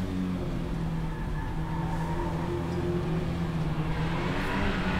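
Lada 2101 Gruppe 2 race car engine winding down from revs, a steady droning hum that holds loud and close for about five seconds with no pause or voices.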